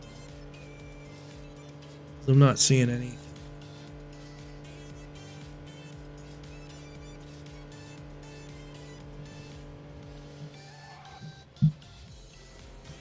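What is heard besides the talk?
car driving in a video game (Wuthering Waves)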